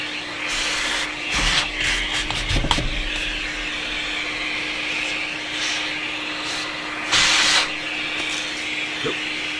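A vacuum cleaner sucks up drilling debris after a hole is bored for an auxiliary selector switch, its loud steady hum running the whole time with rattling pickups and a brief surge near the end.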